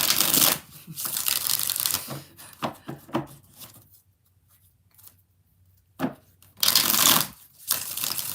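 Bursts of riffling playing cards being shuffled, several quick flurries separated by pauses, close and fairly loud with no voices.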